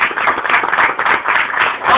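Steady applause from a church congregation during a sermon, continuous dense clapping filling the whole stretch at an even, fairly loud level.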